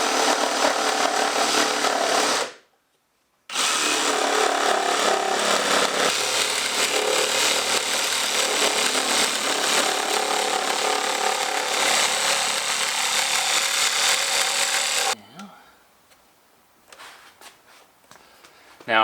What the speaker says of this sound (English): We'll be cutting off this lower portion here, and that will give us a bunch more headroom.